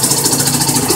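A homemade generator engine idles at low throttle, a loud close steady rhythmic chug with an even pulsing beat and no voices.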